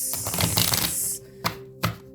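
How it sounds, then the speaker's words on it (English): A deck of tarot cards is shuffled up close, a dense riffling flutter of cards followed by two sharp taps as the deck is squared. "We'll shuffle these again."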